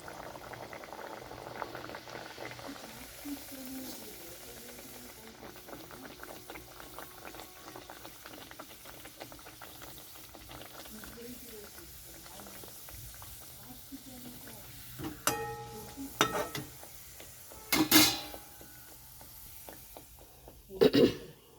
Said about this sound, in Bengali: কড়াইতে আমি সাদা তেল দিয়েছি, সাদা তেলটা গরম হয়ে গেছে, তো আমি ভাজার জন্য ছেড়ে দিচ্ছি।